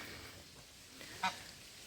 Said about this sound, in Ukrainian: Здається, що найщасливіші тут гуси.